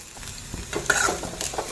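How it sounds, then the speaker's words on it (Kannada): Vegetable palya stir-fried on high flame in a pan, a steady close sizzle with scraping strokes of a spatula mixing continuously. "ಸ್ವಲ್ಪ ಹೈ ಫ್ಲೇಮ್ನಲ್ಲೇ ಇಟ್ಟು ಫ್ರೈ ಮಾಡ್ಕೋಬೋದು ಏನು ತೊಂದರೆ ಇಲ್ಲ ಆದರೆ ಕೈ ಬಿಡದೆ ನಾವು ಈ ರೀತಿ ಮಿಕ್ಸ್ ಮಾಡ್ಕೋಬೇಕಾಗುತ್ತೆ"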